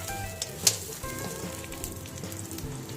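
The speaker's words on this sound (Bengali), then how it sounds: "ফ্রাইড রাইসের জন্য এই যে একটা প্যানে বাটার দিয়ে দিব" Butter melting in a pan before making fried rice, a soft steady sizzle with a few small clicks and pops, close and moderately quiet.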